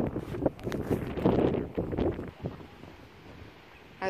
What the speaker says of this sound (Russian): потому что ветер